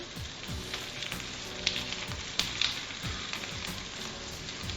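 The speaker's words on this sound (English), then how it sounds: "You can hear it sizzling." Steady, close sizzling and crackling of chicken frying cut side down in foaming butter, with occasional louder pops; no voices.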